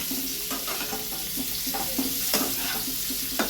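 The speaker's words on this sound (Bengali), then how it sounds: "আলুগুলোকে ভালো করে একটু ভেজে নেব।" Potatoes frying in hot oil for a jackfruit kalia give a steady, close sizzle with repeated soft scraping stirs throughout, and no voices.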